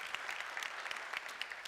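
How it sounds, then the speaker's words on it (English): A community forum audience claps for the advisory council members, a brief, even wash of many hands clapping at close range with no voices over it. "let's give them an applause."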